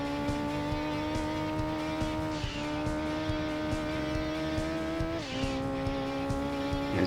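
A Gran Turismo 2 race car of almost 500 horsepower, run in a rally event, holds a loud, steady engine drone with a faint tyre hiss, its pitch dipping briefly twice as the car shifts or slows. No one speaks.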